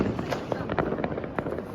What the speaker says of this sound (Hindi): भाई चला दिया हुआ स्काई शॉट।